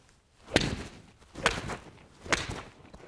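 Three sharp, crisp strikes spaced about a second apart, each a quick clack with a short ringing tail, close by and with no talking.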